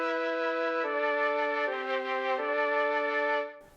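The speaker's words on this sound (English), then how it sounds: "You get the string flute, which is a mellotron." A Mellotron-style string flute keyboard patch plays a sustained, reedy chord sequence of several held chords shifting in steps, loud and alone.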